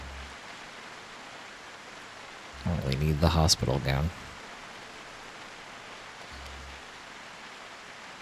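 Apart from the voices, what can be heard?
rain falling in the video game Project Zomboid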